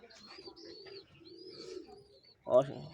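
Domestic pigeons kept in nest boxes by a home loft give soft low cooing calls, with a louder burst of cooing near the end, while a person talks over them.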